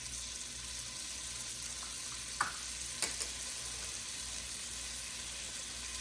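A stick of butter melts and sizzles in a pan with carrots for a Thanksgiving side dish: a steady, close frying hiss with a couple of faint clicks and no talking.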